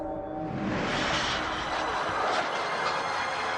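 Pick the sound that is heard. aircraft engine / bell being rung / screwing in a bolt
aircraft engine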